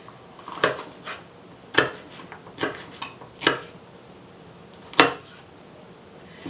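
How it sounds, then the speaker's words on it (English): A knife slices a red bell pepper on a board for a beef and broccoli stir fry, five or six separate crisp cuts knocking at uneven intervals, close and fairly clear against a quiet kitchen. "I'm going to just slice up 1 red bell pepper"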